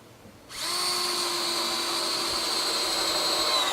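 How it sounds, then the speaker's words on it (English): A power drill drives 2-inch screws into wooden cross-member supports of a guillotine-style pig trap door, starting abruptly and then whining steadily and loudly up close, with no talking. "when I'm putting these in with 2-inch screws"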